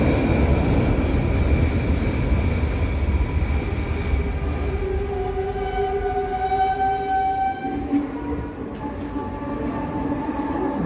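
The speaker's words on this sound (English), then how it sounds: "I believe that's the train coming in." A regional commuter train in British Columbia pulls into a station, its rumbling rolling noise steady throughout with rising and falling wheel squeals and tonal screeches as it slows, loud and close, with no talking.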